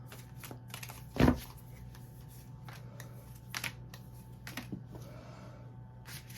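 Tarot cards are shuffled in quick riffling bursts, with one sharp louder flick early and softer clustered card sounds later, close up and fairly quiet over a faint steady hum.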